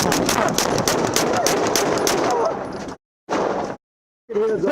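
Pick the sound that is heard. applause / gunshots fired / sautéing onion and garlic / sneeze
gunshots fired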